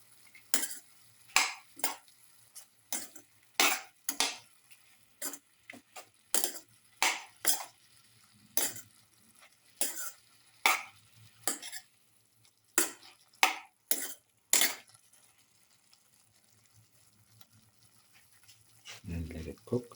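Chicken casserole mixture for pepper lemon chicken being stirred and sautéed in a pan: a series of sharp, scraping stir strokes in irregular bursts over a faint sizzle, near and fairly loud, with a low rumble at the end.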